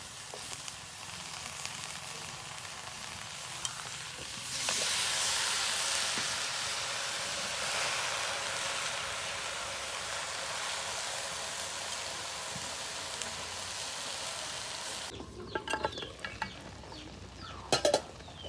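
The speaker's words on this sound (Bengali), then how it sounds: "এখন আমি মিষ্টি কুমড়ার শাক ভাইজা নেব" Pumpkin leaves frying and being stirred in a wok, a steady broadband sizzle that swells louder partway through, with scraping spatula strokes and a few sharp metallic knocks near the end.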